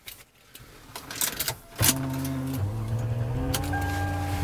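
A mint-condition 2004 Lexus RX 330 cranks briefly after a few soft interior clicks, then catches and settles into a smooth, steady idle, recorded close by with no talking.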